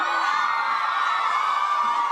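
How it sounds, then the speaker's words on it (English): A crowd of fans screams and whoops continuously at a Hunger Games cast appearance, a dense high-pitched roar sustained throughout with no break. "Everybody's screaming anyway."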